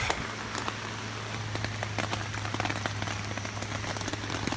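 Rain patters steadily on a surface nearby, with many small scattered drops and a low constant hum underneath.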